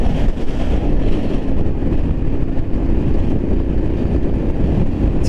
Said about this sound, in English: the wind is beating the crap out of me anyway